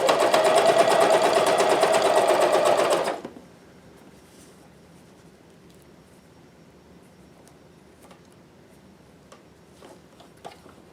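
A Janome CoverPro 1000CPX coverstitch machine runs loud and steady for about three seconds, then stops abruptly, leaving quiet room tone with a few faint small clicks.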